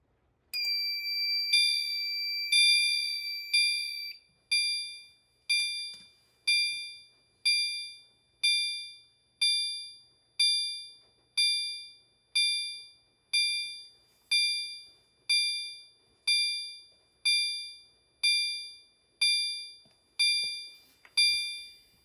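A System Sensor L-series fire alarm chime strobe at factory default and high volume rings alone, starting with a sustained bright chime and then repeating a clear, evenly spaced electronic ding once per second.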